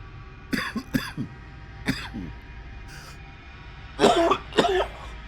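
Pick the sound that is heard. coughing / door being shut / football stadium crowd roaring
coughing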